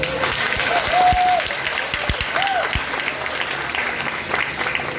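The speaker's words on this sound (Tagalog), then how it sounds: "Palakpak naman ito." Audience applause at a Department of Justice anniversary gathering, a steady, loud wash of many hands clapping together for the whole five seconds, with a few sharper individual claps standing out and faint crowd noise underneath.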